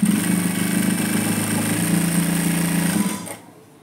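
A sewing machine stitches a blouse, running steadily with a close mechanical hum and rapid needle chatter for about three seconds before stopping abruptly.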